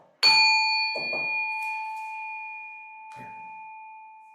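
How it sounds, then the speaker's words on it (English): A meditation bell is struck once, sounding a clear sustained tone that slowly fades over several seconds, with faint movement noises beneath it. "Here, I'll ring a bell just so it's official."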